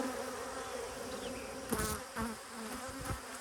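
Honey bees swarm around an opened beehive while a deep box is swapped out. Their dense, steady droning buzz fills the air, broken by a few soft knocks and bumps from handling the hive.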